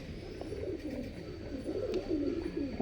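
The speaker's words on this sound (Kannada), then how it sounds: "ಬ್ಯೂಟಿಫುಲ್ ಬರ್ಡ್ ಇದು, ಒಳ್ಳೆ ಬ್ಯೂಟಿಫುಲ್ ಬರ್ಡ್." Soft cooing from pigeons at a home breeding loft, a low, repeated throaty murmur heard close but fairly faint over steady background hiss.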